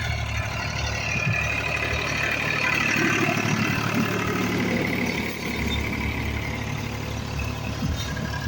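A heavy farm tractor engine rumbles steadily nearby during wheat sowing with a new seed drill, a low diesel drone that swells slightly as the tractor approaches, with no voices.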